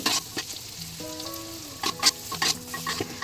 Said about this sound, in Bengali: মটরশুঁটিগুলো দিয়ে দিয়েছি তো দিলাম ভালো করে আরও ভালো করে ভেজে নিল